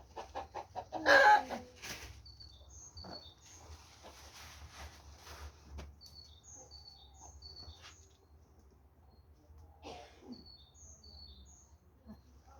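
Chickens cluck and squawk intermittently nearby, with a loud burst early on and scattered calls afterward over a low background hum.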